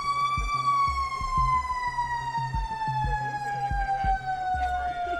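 A big fire truck's siren wails in one long, slowly falling sweep, loud and close, over a regular rumbling thump from the running truck.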